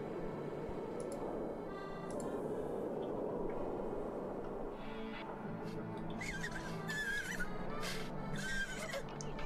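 Horses in The Sims 3 video game whinny, with a drawn-out neigh followed by shorter high calls and faint ticking, fairly loud and without talk.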